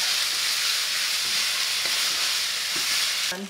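Vietnamese bánh xèo pancake batter frying in a pan, a loud, dense, continuous hiss of sizzling oil that holds steady before a faint clink at the end.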